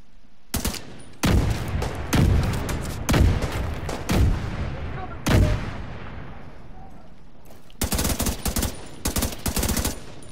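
Sniper and automatic gunfire in the shooter video game The Division 2: loud, sharp bursts of shots in irregular clusters, each with a decaying echo tail, and a dense rapid volley near the end.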